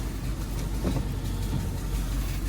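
A rebuilt Dodge SRT8 pulls off on its first drive, a steady low engine rumble with road noise heard from inside the car, fairly even and close.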